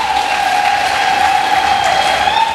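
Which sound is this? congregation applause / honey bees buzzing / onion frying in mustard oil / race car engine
congregation applause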